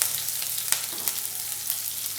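Green chillies frying in hot oil with mustard seeds, a short close steady sizzle dotted with a few faint pops and crackles, no voices.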